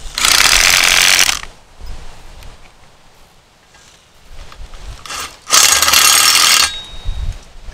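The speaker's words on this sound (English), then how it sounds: "And then I just go ahead and start my screws. I don't drive them all the way in at first." A power driver runs screws part way into a metal post bracket on concrete, giving two loud bursts of bright whirring, each about a second long, with quieter handling sounds and rustling between them.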